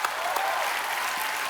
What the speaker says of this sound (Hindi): एक बार हेलन जी और आशा जी के लिए जोरदार तालियां हो जाएं